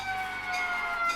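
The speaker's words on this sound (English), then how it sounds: "Ambulances come in the distance." A far-off ambulance siren wails steadily, its tone drifting through a continuous distant whine heard alone.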